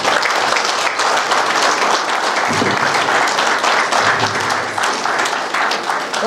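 An audience applauding at an award presentation attended by an MLA and a commissioner, a sustained wash of many hands clapping, with a few voices heard under it.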